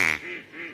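A duck gives one loud, nasal quack up close in a children's song-and-story recording, followed by a fainter, drawn-out trailing call.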